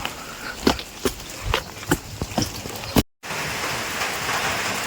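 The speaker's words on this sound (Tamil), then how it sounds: "மழை அதிகமாக பிடிச்சிருச்சு" Rain in Himachal Pradesh pattering steadily with sharp drops striking a surface, then a brief cut followed by a denser, louder wash of heavy downpour close by, with no one talking.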